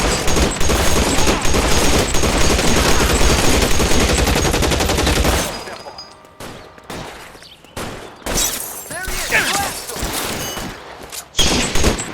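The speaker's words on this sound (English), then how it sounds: "Lay down some cover fire." Cover fire in the 1940s Los Angeles crime video game LA Noire: a sustained, loud fusillade of rapid automatic gunfire for about five seconds, then scattered single shots and short bursts with brief quiet gaps.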